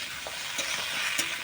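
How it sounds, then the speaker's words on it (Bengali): Okra and whole onions fry together in hot oil, a steady close sizzle broken by a few soft scraping stirs of the spoon through the pan. "এবার একসাথে আমি নেড়ে নেবো"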